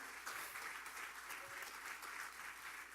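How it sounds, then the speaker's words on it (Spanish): Church congregation applauding steadily and fairly loudly, a dense continuous wash of many hands clapping throughout with no voices standing out. "Denle un aplauso al Señor."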